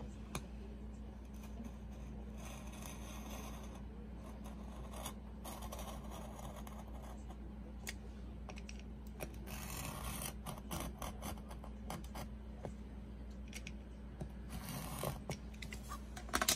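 Scissors cutting a slit through the bottom of a homemade hand sanitizer holder, a close rasping, rubbing cut with small clicks, quiet and continuous over a low steady hum.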